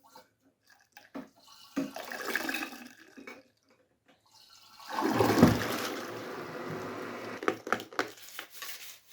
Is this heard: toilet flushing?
yes